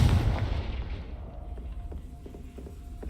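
A Confringo fire spell explodes in the video game Hogwarts Legacy, with a heavy booming blast at the start that rumbles and fades over about three seconds, followed by a few faint clicks.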